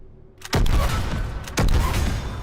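A weapon in the video game Mass Effect 3 fires in two loud, close bursts of rapid shots about a second apart, each burst leaving a booming tail.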